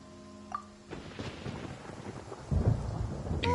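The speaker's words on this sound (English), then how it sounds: "Paimon hears thunder!" Thunder rumbles through a storm in the video game Genshin Impact, a deep roll that swells and grows louder toward the end, with a brief tonal chime near the start and no speech.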